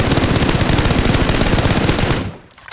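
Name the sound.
automatic rifle spray fired in a video game shooter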